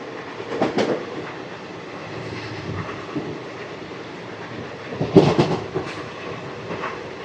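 The Tirupati–Kakinada Town Express (17249) runs past Sarpavaram railway station, with a steady rumble of rolling coaches and clickety-clack wheel beats over the rail joints, louder bursts of clatter near the start and again around the middle.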